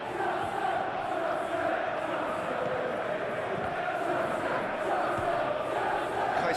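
A football crowd in a PES video game simulation of Chelsea versus Wolverhampton hums and chants in a steady, even roar, moderately loud, with a commentator talking over it.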